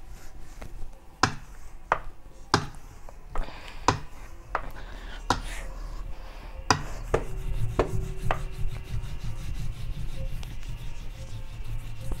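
A small knife chops and cuts on a board while baking coffee-bean cookies, with a run of sharp, spaced taps at first, then denser scraping and rubbing, close and clear with no talking.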